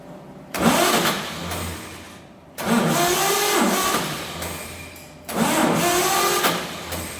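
A 1948 Chevy truck engine, idle for 30 years, cranks over on the starter during a compression test, with three separate loud cranking bursts of about two seconds each and short pauses between them.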